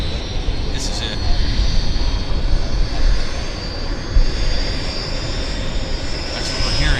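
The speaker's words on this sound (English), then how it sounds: "I'm hearing an engine." Fixed-wing airplane engine roaring at Vancouver Airport, a loud steady drone that swells slightly in places, with brief faint voices mixed in.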